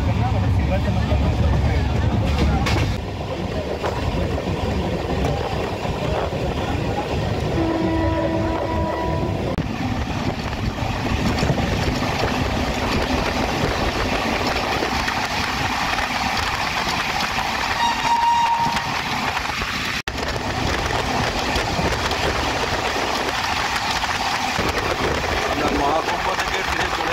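A moving train nears Bardhaman, with a steady low rumble and rattle of the carriages running throughout, a brief horn-like tone partway, and voices talking over it.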